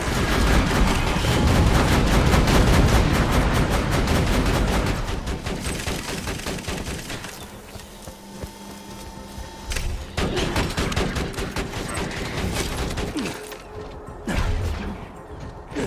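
Borderlands 2 gunfire, playing Axton, crackles in rapid, loud automatic bursts for several seconds, then eases into sparser shots and mechanical clatter over a steady background.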